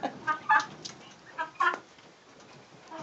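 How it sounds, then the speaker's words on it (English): A rooster and chickens on a small backyard property in spring give short, repeated calls in bursts, fairly close, with quiet outdoor ambience between them. "The cock-a-doodle-doo"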